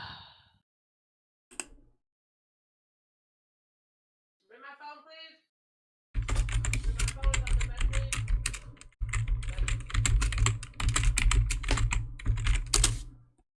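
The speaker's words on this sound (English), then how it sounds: "Who's typing? I am just making a few notes." Rapid continuous typing on a computer keyboard sets in after a few brief sounds and a short spoken bit, then clatters on loudly and close for several seconds with a short pause.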